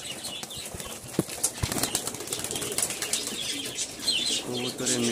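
Pigeons flapping their wings in bursts and cooing softly nearby, with sharp wing claps and a faint background hum.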